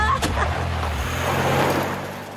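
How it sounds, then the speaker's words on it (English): A cartoon car rumbles close by and pulls away, its engine drone fading over a couple of seconds as the vehicle drives off. "Connie throws Stewie out of her car and drives off."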